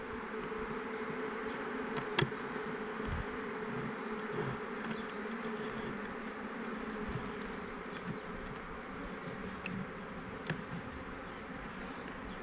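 A steady, continuous buzz of many bees swarming, moderately loud throughout, with a few faint clicks and taps.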